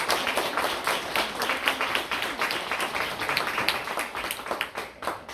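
A church congregation claps to welcome Pastor Kim Hye-seong of Seongju First Church to the pulpit, an uneven patter of hands at moderate loudness that swells and thins over several seconds.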